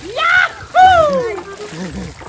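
Cold water splashes and sloshes close by as people bathe, while voices call out and chatter loudly over it.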